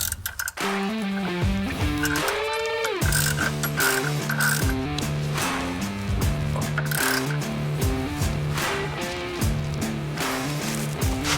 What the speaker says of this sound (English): Now you come back with a wrench and a socket and go ahead and tighten up that upper mounting nut.